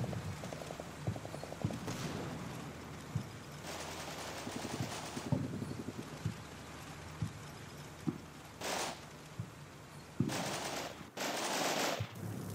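Gunfire in Combat Mission: Black Seas, scattered bursts of rapid automatic shots and single cracks at mid distance, irregular and fairly faint against low battlefield ambience.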